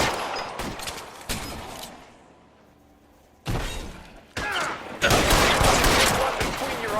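A video-game shootout in L.A. Noire, with loud bursts of gunfire and shattering glass close up, a quiet lull in the middle, then heavier sustained volleys toward the end.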